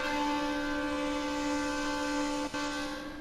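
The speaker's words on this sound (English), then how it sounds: "So, quite loud and high pitch for the high tone" Sustained high-tone horn of an ICE 3 high-speed train in the Train Sim World game, a steady loud multi-note blare that holds for about two and a half seconds, briefly dips, then continues and fades.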